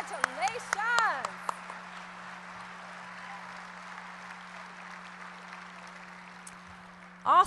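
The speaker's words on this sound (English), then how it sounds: "So let's give them a big hand clap." An audience at a spring benefit event for a Christian college gives a round of applause, a soft steady clapping that continues under a speaker's voice before a louder burst at the end.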